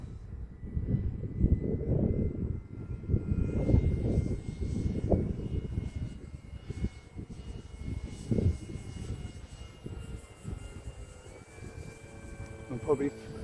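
HobbyKing Yak-11 Steadfast 6s RC racer plane flying, a continuous buzzing electric motor drone rising and fading as it passes, with outdoor wind noise and a person talking throughout.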